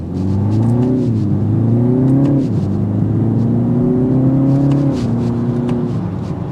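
A 2024 BMW 330 sedan accelerates hard in sport mode, its engine note rising and falling through several gear changes, a steady loud rumble with no talking over it.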